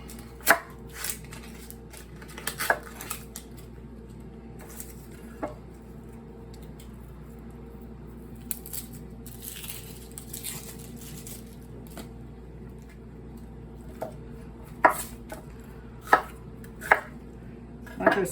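A knife chops onion on a board in a few scattered taps, some single and some in quick clusters, fairly close but not loud over a quiet room.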